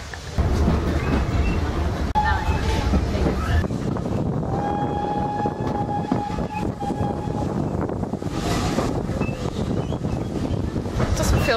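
A train on the Severn Valley Railway at Bewdley rumbles past loudly and continuously, with a wheel squeal or whistle tone in the middle and gusty wind buffeting throughout.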